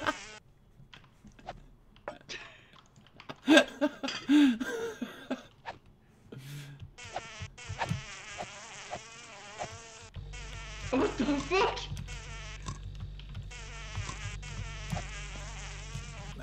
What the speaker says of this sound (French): C'est des mouches.